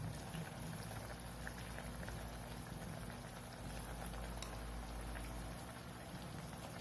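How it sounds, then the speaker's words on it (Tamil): A pot of drumstick leaf soup bubbles steadily at a rolling boil, a dense, even fizzing and popping that continues throughout with no talking. "இதை போட்டு நல்லா ஒரு ரெண்டு மூணு நிமிஷம் கொதிக்கட்டும்"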